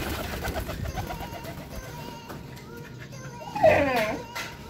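Racing pigeons coo and flutter at a loft, soft calls scattered through the clip with a louder burst near the end, while a person talks and children's voices sound in the background.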